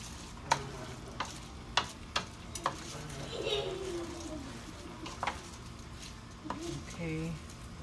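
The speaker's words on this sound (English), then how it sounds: "Good stir." Rice with chicken, chickpeas and garlic stirred in a pan, with sharp spoon taps and knocks against the pan at irregular moments over a low sizzle, and a voice and some background chatter partway through.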